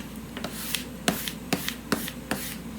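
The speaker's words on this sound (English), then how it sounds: "take a squeegee or a brayer of some sort and squeeze this down onto the vinyl" A squeegee presses a vinyl stencil down onto a sign in repeated firm rubbing strokes, about six of them, close and moderately quiet.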